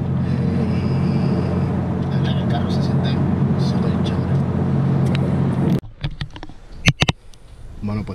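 Toyota Supra sports car driving, a loud steady engine and road drone that cuts out abruptly near the end, leaving scattered clicks and knocks.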